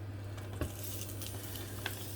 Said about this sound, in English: let's get some searing done on a griddle pan